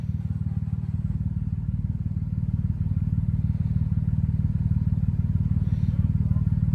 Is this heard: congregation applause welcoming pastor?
no